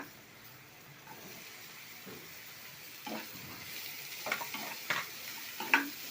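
Ridge gourd pieces tossed into a pan of softened onions for a dry prawn curry, giving a low frying sizzle with scattered spoon knocks and clatters that grow louder and more frequent toward the end.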